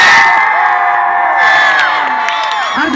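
A loud, close crowd at a rap concert in a Burgas shopping mall cheers, screams and whoops in a dense, continuous roar, with high shrieks cutting through the noise and a voice shouting over it.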